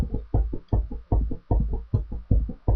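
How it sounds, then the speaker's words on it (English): A dog's tail whacks on a settee in a steady run of dull, close thumps, roughly two or three per second, with no talking over it. "so that noise you can hear is my dog's tail."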